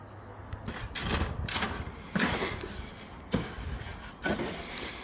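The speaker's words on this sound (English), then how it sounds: "just adding the dry mix and mixing them, not too quickly" Dry concrete mix tipped in and stirred by hand in a bucket while restumping a house in Melbourne, with gritty scraping strokes and several sharper knocks, close and moderately loud.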